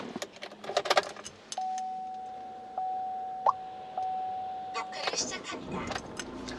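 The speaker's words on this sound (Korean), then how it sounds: "시동 바로 한번 걸어 볼게요" Keys jangle in a Chevrolet Orlando used car with about 133,000 km, then a steady warning chime sounds. The engine cranks and catches after a few seconds and settles into a close idle.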